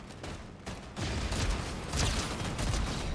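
Rapid gunfire in Fortnite, a dense burst of overlapping shots that grows louder after the first second and keeps rattling steadily to the end.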